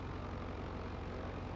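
Steady propeller aircraft drone with no letup in Microsoft Flight Simulator 2020, a dense, faint engine hum as a plane buzzes nearby.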